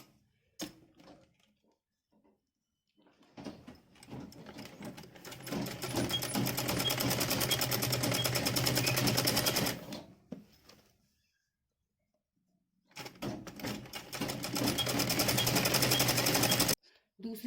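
A sewing machine stitches a zip onto fabric scraps in two long, rapid, close bursts of steady mechanical chatter, separated by quiet pauses with faint handling sounds.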